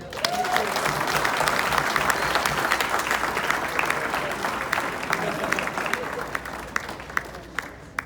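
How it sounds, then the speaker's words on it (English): Wedding guests give a warm round of applause for the couple, a full, continuous crowd clapping that holds steady and slowly tapers, with murmured chatter and a voice underneath. "big applause for Tony and Heather"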